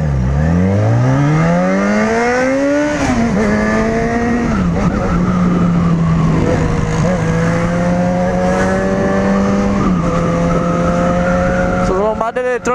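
A Yamaha XJ6 motorcycle engine gives a loud, continuous roar that rises in pitch, then holds steady and droning, with a brief revving burst near the end; it sounds close and powerful.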